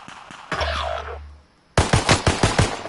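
Gunfire in Call of Duty Warzone: a short loud burst at first, then a rapid string of about six close automatic shots near the end, with no talk.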